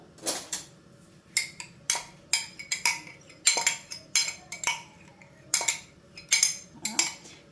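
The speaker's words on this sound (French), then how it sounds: "je vais venir prendre une casserole et je vais verser mon yaourt" Saucepan handled on a kitchen stove while yogurt is poured in, giving a series of short metallic clinks and knocks in an irregular rhythm, close and moderately loud, with no talking.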